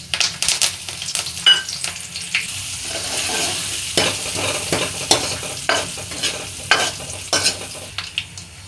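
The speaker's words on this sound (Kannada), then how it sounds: "ಫೈನಲ್ ಸ್ಟೆಪ್, ಒಗ್ಗರಣೆಗೆ ಈಗ ಎಣ್ಣೆ ಆ್ಯಡ್ ಮಾಡ್ಕೊಳ್ತಾ ಇದ್ದೀನಿ. ಎಣ್ಣೆ ಕಾದಿದೆ. ಈಗ ಸಾಸಿವೆ, ಜೀರಿಗೆ, ಬೆಳ್ಳುಳ್ಳಿ, ಕರಿಬೇವಿನ ಸೊಪ್ಪು, ಒಣಮೆಣಸಿನ್ಕಾಯಿ," Mustard seeds, cumin, garlic, curry leaves and dried red chillies hit hot oil for a tempering over a Brahmin-style vegetable sambar, giving a steady close sizzle with sharp spluttering pops and stirring clatter throughout, no voices.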